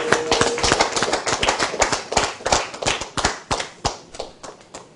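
A small crowd at a birthday celebration claps in a loose, uneven rhythm, sharp hand claps close by, thinning out and slowing toward the end.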